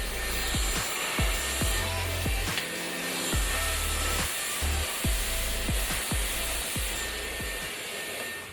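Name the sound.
hair dryer blow-drying hair with a brush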